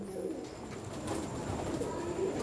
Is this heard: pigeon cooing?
yes